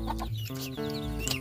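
Chickens cluck close by in short, overlapping bursts, several birds calling at once with a throaty, rhythmic sound.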